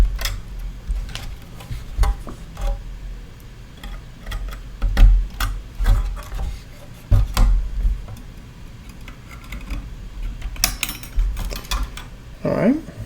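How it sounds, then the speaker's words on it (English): A pair of ordinary scissors cuts at a clamp on a secondhand thrift-store item, close up: sharp, scattered metallic snips and clicks with occasional handling knocks against a quiet background. "We'll use a pair of regular old scissors."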